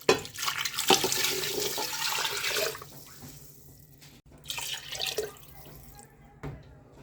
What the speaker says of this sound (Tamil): இப்போ கால் முழுகிற அளவுக்கு தண்ணி ஊற்றிக்குவோம்.